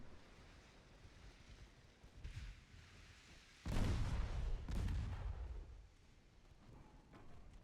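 Heavy battleship guns firing armor-piercing shells in the naval game Ultimate Admiral Dreadnoughts, a loud booming salvo with a long rumbling tail over steady sea and wind ambience, followed by a second blast soon after.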